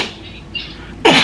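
A single loud, abrupt sneeze bursts out near the end, preceded by a second of quiet room tone with faint breathy noise.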